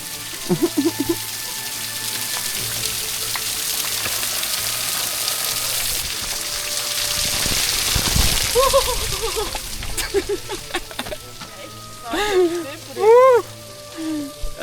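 Water rushes steadily beside a mountain hiking trail in Madeira where a waterfall lies ahead, swelling to a broad wash midway, with brief voices and chirpy calls toward the end.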